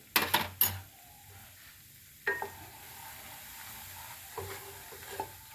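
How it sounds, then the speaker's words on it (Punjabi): Gram flour being dry-roasted in a pan for halwa, with a few sharp spoon clatters at the start and later, then a quiet, low crackle of roasting between them, no talking. "ਇਹਦੇ ਵਿੱਚ ਬੇਸਨ ਪਾਵਾਂਗੇ ਇਹਨੂੰ ਆਪਾਂ ਥੋੜਾ ਜਿਹਾ ਭੁੰਨ ਲਾਂਗੇ"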